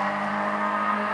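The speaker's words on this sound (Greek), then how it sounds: "Δύο αμάξια κατεβαίνουνε." Cars drive down a road, giving a steady engine drone with a constant low hum and a broad whir, sustained and fairly loud without a clear pass-by.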